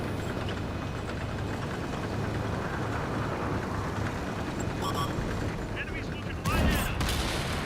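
Tank cannon fire in a tank battle video game, with a steady roar of engines and battle noise throughout and a heavier burst of firing near the end.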